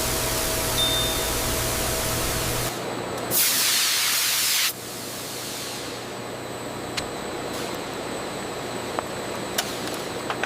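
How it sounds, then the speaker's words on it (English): Multi-axis spray guns coat handbag leather with colour, a broad steady hiss of spraying that fills the clip, briefly louder in one close burst, with no talk. "Multi-axis spray guns apply exact color coats for maximum luxury handbag durability."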